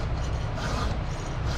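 A chainsaw chain being sharpened with a hand file: a short, continuous, close rasping scrape of metal on metal, heard alone without speech.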